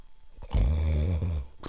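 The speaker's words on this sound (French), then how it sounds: "il se recoucha, s'endormit et commença à ronfler bruyamment" The wolf from Little Red Riding Hood snores once, a long deep rumbling breath in a storybook sound effect, loud and close, with no talking.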